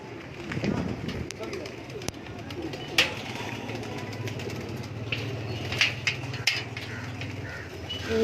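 Pigeons in a Lahore breeding loft, white-eyed birds among them, give soft low cooing beneath someone talking, with a faint idling engine and a few sharp knocks in the background.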